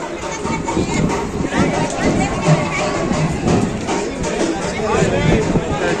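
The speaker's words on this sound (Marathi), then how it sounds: "भाविकांचा महासागर इथे बघायला मिळतोय" Large crowd of devotees outside Datta Maharaj's temple in Akkalkot, a dense steady roar of babble from many people nearby, with someone speaking over it.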